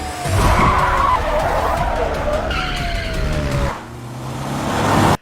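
Film car-chase scene with an ambulance fleeing police: loud engines roar and tires skid continuously, with a falling siren-like wail in the middle before the noise briefly drops and then surges again.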